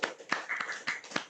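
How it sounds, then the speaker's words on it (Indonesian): A few people clap at an Indonesian selection event, a sparse, irregular pattern of about five distinct claps spaced roughly a quarter second apart, close and fairly quiet. "tepuk tangan dulu buat Alwi sama Rega."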